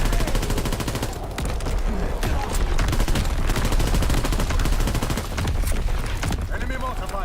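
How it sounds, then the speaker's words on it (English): Dense battlefield gunfire and artillery from a Call of Duty WWII match, with rapid overlapping shots and heavy booms rattling continuously at close range, loud and sustained throughout. "Incoming enemy artillery."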